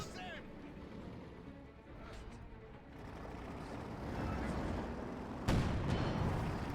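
Company of Heroes 2 battle sounds, with distant cannon fire and explosive rounds thudding through a rumbling backdrop, ending in a sharp, loud blast near the end.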